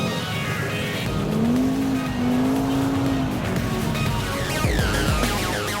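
An Audi RS car accelerates again, its engine note climbing steadily and loud up close, with a steady roar of road and wind noise throughout and the revs dropping near the end.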